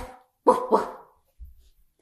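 Several people imitate a dog's barking with voiced woofs, two close, loud bursts in quick succession, then a faint trailing vocal sound, with no real dog present.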